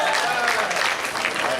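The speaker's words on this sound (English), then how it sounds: "Let's give the applause." Crowd applause at a lively gathering fills the clip as a continuous wash of clapping, with voices mixed in underneath throughout.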